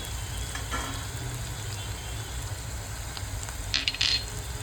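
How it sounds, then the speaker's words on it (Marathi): Ginger garlic paste with chili powder frying in oil in a pan, a steady close sizzle with a brief louder spattering burst near the end. "2 मिनटं आपण थोडंसं फ्राय करून घेऊया व्यवस्थित।"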